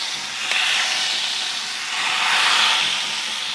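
Hot spiced tadka tempering is poured onto achari kadhi and sizzles in a loud, close, steady hiss that swells twice over a few seconds, with no talking.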